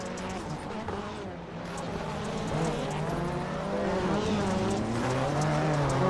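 Rallycross race cars out on a NASA Rallycross Challenge track, engines droning and rising in pitch as they accelerate, heard at moderate distance under a commentator's voice.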